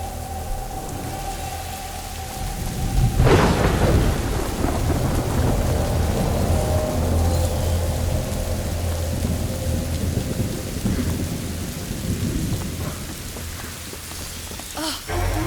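A thunderstorm in the game A Plague Tale: Innocence, with a sharp nearby lightning crack and rumbling thunder over steady, heavy rain that keeps pattering throughout.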